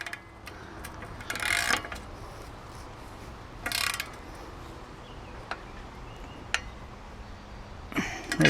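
Bicycle bottom bracket being threaded into a cruiser bike frame with a tool: short ratcheting clicks and metallic scrapes in several separate bursts, close and fairly quiet, with gaps between turns.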